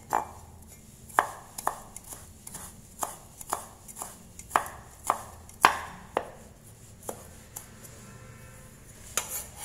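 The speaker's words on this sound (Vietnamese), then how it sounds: "Tỏi thì mình sẽ băm nhỏ ra." A knife mincing garlic on a cutting board: a string of sharp, irregular chops close to the microphone, some louder than others, with short pauses between them and no talk.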